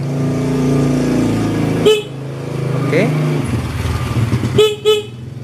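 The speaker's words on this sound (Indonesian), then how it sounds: "Oke, klaksonnya menyala walaupun memang perlu ada settingan lagi nanti paling ya." A Yamaha New Vixion motorcycle horn gives a sustained buzzing honk, then short blips follow, close and loud, with a person talking briefly between them.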